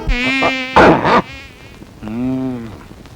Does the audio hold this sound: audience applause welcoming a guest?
no